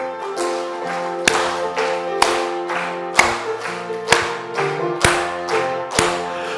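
A church congregation claps hands in steady time while singing a hymn on Pentecost Sunday, sharp loud claps landing about once a second over the music.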